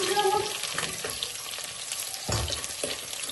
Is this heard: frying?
yes